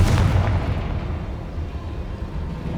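A booming Confringo spell explosion in the video game Hogwarts Legacy, a loud blast at the start that decays into a rumbling low roar without speech.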